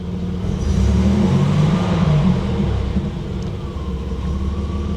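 A 1987 Buick Grand National engine revving under throttle, a loud, dense low rumble that swells and then eases back toward idle, heard close with no talking.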